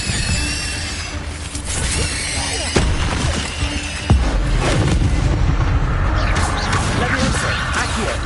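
Fire spell being cast in Hogwarts Legacy, a loud whooshing burst with sharp crackling impacts, set amid a dense, continuous bed of combat noise and effects that stays loud throughout.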